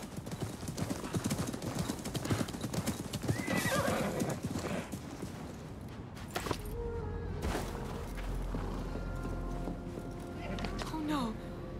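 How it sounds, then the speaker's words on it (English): In Assassin's Creed Mirage, horse hooves clip-clop rapidly and a horse whinnies, with voices talking over the galloping; later the hoofbeats fade under rumbling and further shouts. "My father's horse!"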